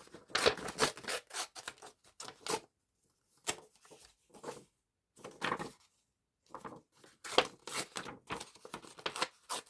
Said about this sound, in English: I'm going to tear these up into pieces.